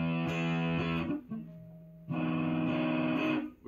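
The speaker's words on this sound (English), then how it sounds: "I'm just doing like some distortion to kind of emulate it" An electric guitar plays a riff through heavy distortion, with sustained chordal notes, a short break, then another ringing phrase, loud and close with no talking.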